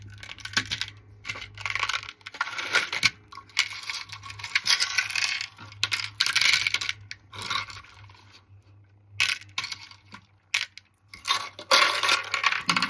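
Small beads pour and clatter out of a container in bursts, a dense rattling of many tiny pieces tumbling and scattering across a surface, fairly close, with brief pauses between pours and no talking.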